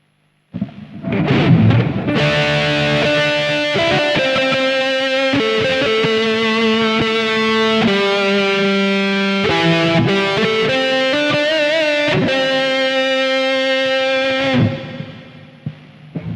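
Sustained synth-like guitar chords from a Roland GR-55 guitar synthesizer ring out with a wide reverb tail, shifting between a few held notes before fading at the end.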